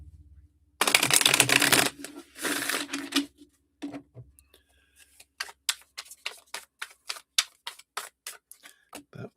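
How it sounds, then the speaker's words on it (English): Tarot cards are shuffled up close: a couple of loud riffling bursts, then a run of crisp, evenly spaced card taps and flicks that fade off. No talking is heard. "Let me just shuffle these up here."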